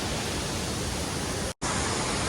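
Nakhal waterfall in Kawant during the monsoon produces a loud, steady roar of rushing water that fills the whole clip and cuts out for a split second before resuming.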